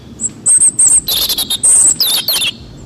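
A robin chirps and trills in quick bursts of high, clear notes, loud and close, with short pauses between phrases.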